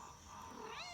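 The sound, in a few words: kitten meowing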